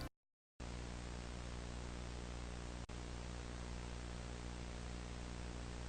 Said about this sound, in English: there's a VHS hum sound underneath the music track